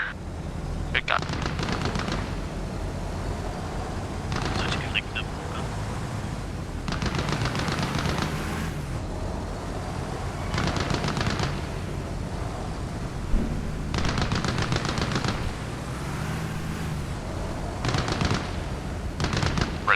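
Bursts of automatic gunfire in the Arma Reforger video game during a military squad exercise, repeated volleys every few seconds with sustained rattling fire, under radio chatter and voices.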